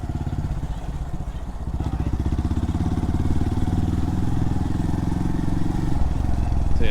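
Honda motorcycle rides through the seaside village of Appledore on a test ride, its engine a steady, close mid-pitched drone that gradually swells louder, with wind rumble on the microphone throughout.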